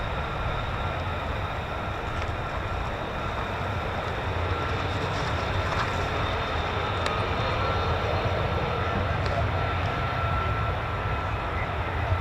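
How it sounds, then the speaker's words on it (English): A Lockheed F-35A fighter jet with a single Pratt & Whitney F135-100 engine roars loud and steady at an air force base, a dense broadband rumble with a faint whine that holds unbroken throughout. "Beautiful F-35A, powered by just a single Pratt & Whitney"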